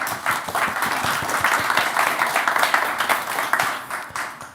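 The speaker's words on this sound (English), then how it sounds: "I would like you to give her a big round of applause" Sustained applause from a conference audience, dense and steady clapping that fills the whole stretch without a break, fairly close and loud.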